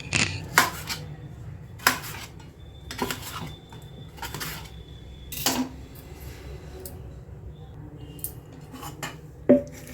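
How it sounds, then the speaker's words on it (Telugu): Tomatoes and onion pieces being cut with a knife on a board at home, about eight sharp, irregularly spaced chops ringing out over a quiet kitchen background with no talk. "ఇంకా దానిలోకి ఈ టమాటాలు, ఉల్లిపాయ ముక్కలు కూడా కట్ చేస్తున్నాను"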